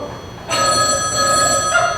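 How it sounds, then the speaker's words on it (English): An old telephone bell rings in a home, a loud, bright metallic trill that starts abruptly after a moment of quiet and continues steadily, close and alone. "Oh, that damn phone!"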